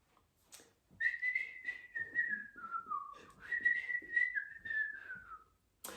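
An ear whistle blown in a Botswana folktale of the hare and the hyena: one long, clear whistled tone that wavers, dips lower midway, then rises again and holds for several seconds before stopping, heard alone with no talk.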